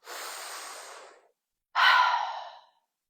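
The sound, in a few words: deep breathing exercise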